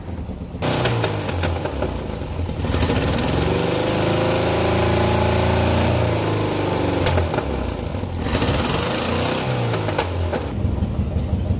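A 1978 Toyota Corolla engine runs steadily and loudly close by, a continuous rumbling drone with a low hum that holds for about eleven seconds, with no voices over it.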